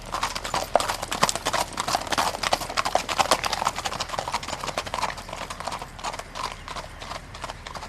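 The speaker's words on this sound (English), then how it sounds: "Excellent horses." Horse hooves clip-clopping, a rapid, steady train of sharp hoof strikes, fairly close and even, easing slightly toward the end.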